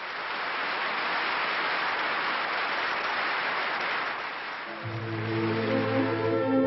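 Sustained applause for an opera singer, a dense, even wash of clapping from a large audience, fading slightly before a low sustained tone enters near the end.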